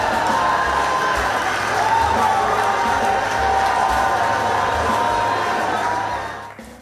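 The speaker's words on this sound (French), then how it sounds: "vos applaudissements." A talent-show finale audience applauds and cheers as coaches are welcomed on stage, a loud, sustained roar of clapping, shouts and whoops that holds for several seconds before fading at the end.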